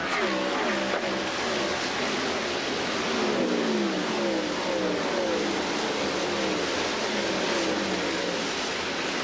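Several IndyCar race cars accelerating together at the 1999 IRL Indy 200, a dense engine roar with rising harmonic sweeps, steady and loud throughout without a pause.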